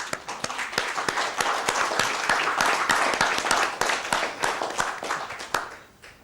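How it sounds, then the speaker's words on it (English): Audience applause with one or two nearby pairs of hands clapping in a loud, regular rhythm over a softer crowd clapping, fading out at the end. "a massive round of applause"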